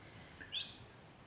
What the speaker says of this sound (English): we've got a couple of rainbow lorikeets up there